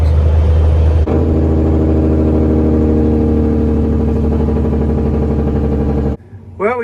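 A semi truck's engine brake, a loud close rapid-fire rumbling drone that holds steady for several seconds and then cuts off abruptly.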